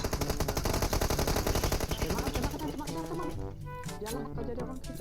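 Rapid automatic gunfire in PUBG Mobile, loud dense bursts for the first half, then sparser shots over game music.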